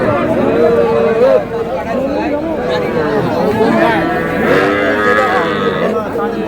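Calves, young bulls and heifers low and moo at the Aftabganj cattle market, the animals calling repeatedly and loudly under a constant hubbub of bargaining crowd voices.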